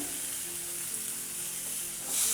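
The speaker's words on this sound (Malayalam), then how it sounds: "ഈ തക്കാളിയും കൂടെ നന്നായിട്ടൊന്ന് വഴറ്റിയെടുക്കാം." Chopped onion and tomato sauté in a pan for egg curry, making a steady, fairly soft sizzle that runs without a break and swells slightly at the end.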